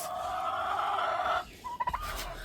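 A turkey hen makes a drawn-out warbling call, then a few short clucks and purrs nearby.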